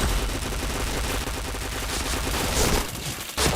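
Dense, loud bursts of rapid gunfire from a shooter video game, rattling continuously like automatic weapons with a brief break and a sharp resumption near the end.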